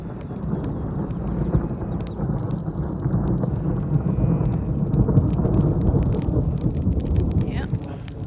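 Rumbling thunder rolls over steady heavy rain during a spring thunderstorm at a homestead, a loud continuous low roar with rain hiss throughout.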